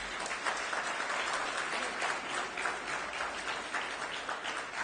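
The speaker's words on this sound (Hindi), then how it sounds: "आप सभी सभागार में उपस्थित साथियों से मैं अनुरोध करूंगा कि आज के दिन के दुल्हा राहुल यादव जी के लिए जोरदार ताली बजाइएगा" An auditorium audience at a Janata Dal (United) party gathering applauds for Rahul Yadav as he joins the party: steady, dense, fairly loud clapping that fills the room without a break.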